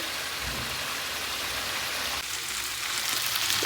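Potatoes and vegetable stems fry in hot oil in a pan, giving a loud, dense, continuous sizzle like heavy rain, steady throughout with no talking.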